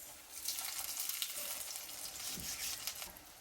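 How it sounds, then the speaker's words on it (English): Fried pies dropped into a hot skillet and frying, a continuous soft hiss and crackle of oil heard close and alone, with a light bump partway through. "I'm going to put these in the skillet"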